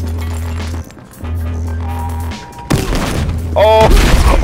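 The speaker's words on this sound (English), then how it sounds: "Frag grenade out." A frag grenade blows up in the video game Battlefield Hardline, a sudden loud crunching burst that cuts in over steady game hum, followed by a ringing, clinking tail and further rumbling.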